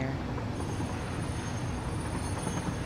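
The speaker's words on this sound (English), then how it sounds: "I have a lot of trains going through here." Trains running through a rail interchange in the factory-building game Satisfactory give a continuous dense rumbling rush with faint high squeal, steady and fairly loud throughout, with no speech.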